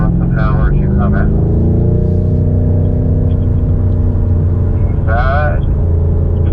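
A BMW M5 Competition laps the Indianapolis Motor Speedway F1 road course, its engine a loud steady in-cabin drone with shifting pitch, while a driver talks over it.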